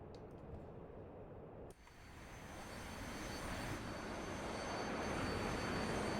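The AJS37 Viggen's jet engine roars from outside the aircraft in a flight game, a loud, broad, steady rush that dips briefly and then swells, with no talk.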